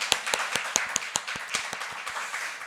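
A church congregation claps in a steady rhythmic beat at a Korean worship service, about a dozen sharp hand claps spaced evenly at moderate loudness, with no talking over them.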